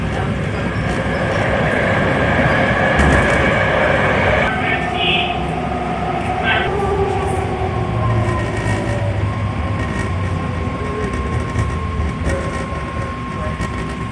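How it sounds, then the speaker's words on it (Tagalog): A BART subway train runs at speed with a steady, loud rumble and roar filling the whole stretch. Faint squeals and rail clatter surface now and then. "Bilis ng tren."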